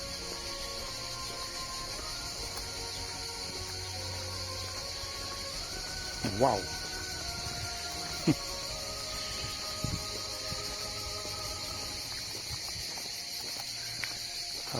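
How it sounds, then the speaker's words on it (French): A dense, steady drone of cicadas fills a sunny outdoor scene along a pilgrimage walk in Saint-Gilles, with scattered footsteps and a brief exclaimed word from a walker partway through. "c'est un truc de fou, ces cigales"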